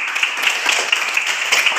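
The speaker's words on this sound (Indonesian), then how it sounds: "tepuk tangan untuk kita semuanya" Schoolchildren clap together in a classroom, a brief, even patter of many hands at moderate loudness with no voices over it.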